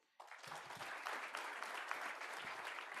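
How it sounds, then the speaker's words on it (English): Applause from a live audience at a tech conference in India starts suddenly and continues steadily, a dense rush of many hands clapping at moderate volume. "Can we hear a round of applause for Shivnath Babu?"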